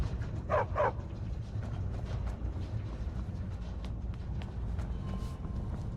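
Dogs in the video game Skyrim let out two quick, close barks early on, then fall silent over a steady, dense background of game ambience.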